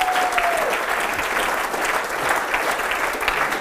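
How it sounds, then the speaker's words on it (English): A large audience applauds in sustained, dense clapping that holds steady and loud throughout, with a faint crowd murmur underneath. "You're only going to be clapping for the rest of this"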